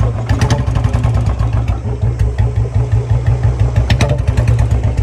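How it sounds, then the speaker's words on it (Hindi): A Royal Enfield Bullet motorcycle idles loud and close, its thumping single-cylinder beat steady and even, with a repeated sharp ticking clatter from the decompressor pin cutting through each cycle. "ये आवाज़ आ रही है, जैसे आवाज़ आती है, ये डीकम्प्रेसर की पिन की आवाज़ है।"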